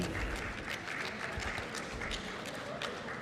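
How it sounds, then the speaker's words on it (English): A conference audience in Lusaka, Zambia claps for a group, a steady, dense wash of applause from a large crowd that holds evenly throughout. "Please, a round of applause for Group 3."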